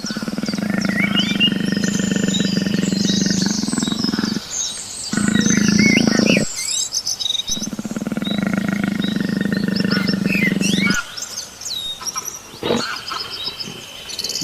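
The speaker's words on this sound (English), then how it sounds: "tiger" A tiger roars repeatedly in the wild, with loud, sustained deep growling bursts separated by brief pauses, some rougher and some longer, close and dominant throughout.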